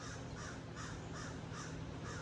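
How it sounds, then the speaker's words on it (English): Crows caw over and over in a regular rhythm, many calls overlapping above a constant low hum, no speech. "this is the first time I've ever heard like a really large gathering of the crows"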